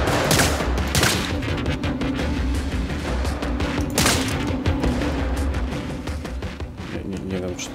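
Rapid gunfire bursts in the Get Even video game, sharp repeated shots and booms layered over a busy combat din, with someone talking over the shooting.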